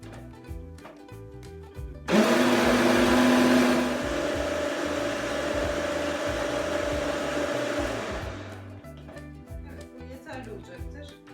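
Pesto sauce whirring in an electric blender, a loud steady motor drone that starts abruptly, runs for about six seconds and then cuts out, with kitchen clatter and background music around it.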